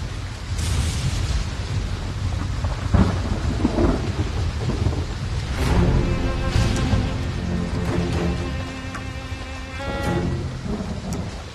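Heavy rain pours steadily while thunder rumbles and cracks through it, a loud, dense outdoor storm with no voices.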